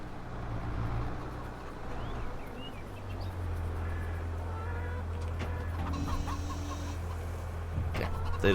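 Chickens cluck repeatedly in Farming Simulator 22, with occasional rooster-like calls over a steady low farm-machinery hum, fairly close and continuous.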